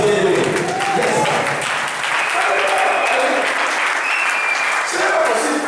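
A church congregation applauds steadily throughout, a dense wash of clapping with cheering voices mixed in, loud and close, with no break in the sound.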